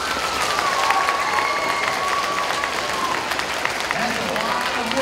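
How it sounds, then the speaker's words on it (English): An audience at a school closing reading event breaks into a round of applause, which carries on steadily under a raised voice and some scattered cheering. "Let's give her a round of applause."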